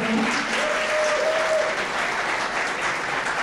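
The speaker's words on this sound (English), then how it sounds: "So let's give ourselves a round of applause." A packed parliamentary chamber audience breaks into sustained, dense applause during a session in Fresno. The clapping stays steady and fairly loud from start to finish, with a brief faint voice-like tone near the beginning.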